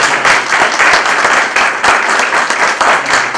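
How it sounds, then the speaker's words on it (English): An audience at an evening book launch breaks into sustained, dense applause, steady and lively throughout with no voices rising above the clapping. "Give him a big round of applause."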